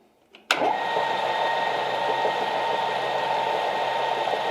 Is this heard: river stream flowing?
no